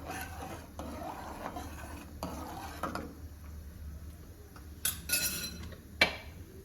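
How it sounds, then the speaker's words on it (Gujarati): A spoon stirs soaked rice and sago inside a metal pressure cooker, with soft scraping strokes and a few sharper clinks against the pot near the end. No one speaks. "એક વખત સરસ ચમચો ફેરવી દેશું।"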